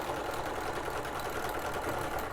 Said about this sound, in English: just let your sewing machine do its job